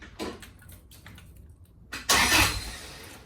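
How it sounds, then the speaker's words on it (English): A Toyota 3SGE engine's starter is bumped: quiet clicks and rustle, then a short, loud burst of starter cranking for about a second, close by, with no voices. "I'm gonna bump the starter and see if it works."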